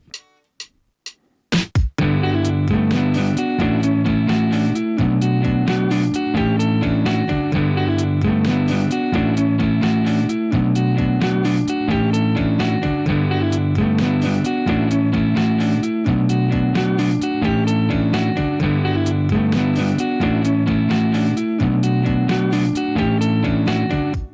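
After a few count-in ticks, an electric guitar plays a riff in standard tuning, repeating chord shapes with ringing open strings in a steady, bright rhythmic pattern throughout.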